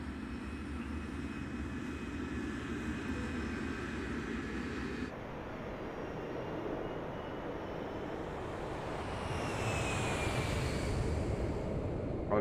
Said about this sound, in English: Captain Milton, your flight is ready for departure